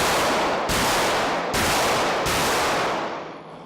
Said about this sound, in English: I'm going to go ahead and shoot the shot